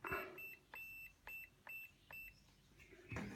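Short electronic beeps from a multimeter continuity test on a Samsung MG23K3575AS microwave fuse repeat in a steady rhythm, about five quick chirps spaced evenly, fairly close, with a faint rustle and a thump at the end.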